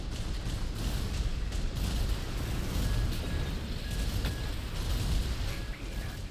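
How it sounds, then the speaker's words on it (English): A nebula explosion in the mech game Armored Core 6 roars as a dense, sustained blast of rumbling noise, loud and unbroken throughout, with no voices over it. "we still took 690 damage from that nebula explosion"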